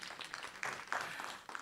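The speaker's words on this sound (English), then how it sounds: "I hope you're not clapping because I haven't succeeded." Audience in a legal profession conference hall clapping, a brief, moderately faint burst of applause.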